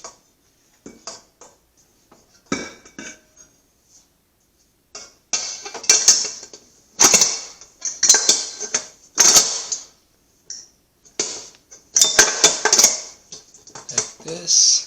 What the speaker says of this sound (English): that's how you attach the basin